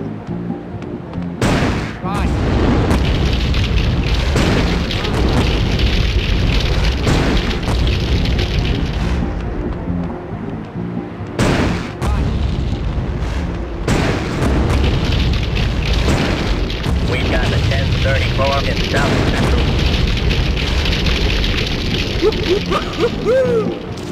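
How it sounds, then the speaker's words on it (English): Rocket launcher blasts in a video game set in South Central: repeated heavy, loud booms with rumbling tails, mixed with bursts of gunfire and occasional game voices, broken by brief pauses. "Rocket launcher."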